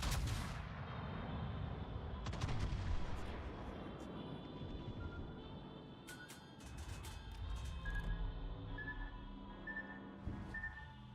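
Heavy naval gun salvos from warships in World of Warships, booming blasts with rumbling tails among game sounds and faint chimes, fairly distant and layered.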